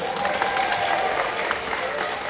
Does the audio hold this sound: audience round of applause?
yes